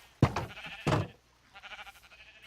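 Two close, loud sheep bleats on a Minecraft sheep farm, followed by a softer wavering third bleat, with no talk.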